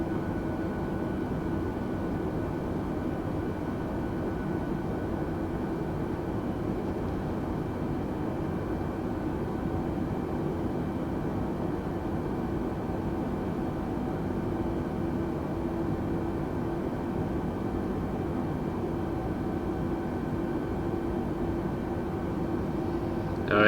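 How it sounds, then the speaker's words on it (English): Steady, loud jet engine roar inside Microsoft Flight Simulator during a New York LaGuardia to Toronto flight, an even broadband drone holding level throughout with no talk over it. "don't want to blow out my eardrums from the jet sounds"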